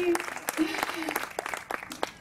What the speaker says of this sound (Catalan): Un aplaudiment per l'Imaginada, va,